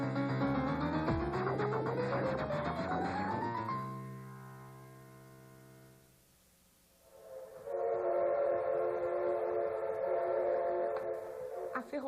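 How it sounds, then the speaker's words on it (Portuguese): The first train from Santos arrives in São Paulo on the old railway, its horn sounding in a long rising blast, then a quieter pause before a sustained steady tone returns, loud and near. "Chega o primeiro trem procedente de Santos."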